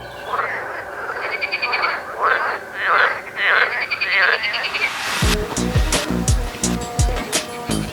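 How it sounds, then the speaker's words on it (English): Frogs croak in repeated rhythmic bursts at night by a canal in Turkey, then a louder, denser chorus of croaking takes over, close and continuous. "listening to the amicable frogs singing"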